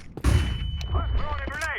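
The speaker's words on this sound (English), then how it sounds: "Flashbang." A flashbang grenade goes off in a Counter-Strike match on the Vertigo map, one sharp loud burst followed by shorter tonal game effects.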